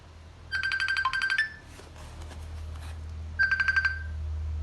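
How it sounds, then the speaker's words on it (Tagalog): Phone ringing out on a call to a friend, heard as two bursts of bright electronic ringing tones with a short pause between them, loud and close over a low steady hum. "Tawagan ko nga si Bisanyes na maayang mo sama ko maglaro"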